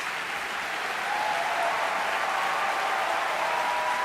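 Sustained clapping from a big classical concert crowd for pianist Nobuyuki Tsujii during an encore curtain call, full and steady, building slightly and carrying on without a break.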